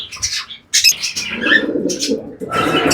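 Cockatiels and lovebirds call inside a home aviary, loud and close, with repeated sharp chirps and squawks broken by short pauses, then a denser burst of calling at the end.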